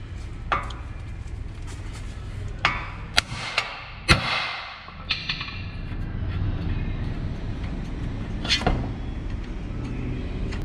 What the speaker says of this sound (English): we're gonna bang on here with the hammer on the spindle